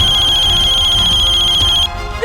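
A mobile phone ringtone plays loud and close, a bright steady electronic tone repeating for about two seconds before cutting off abruptly.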